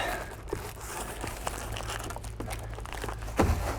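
Ice and water roofing membrane handled on a roof job, a steady close crinkling and crumpling of the sheet throughout with a sharper rustle and thump near the end.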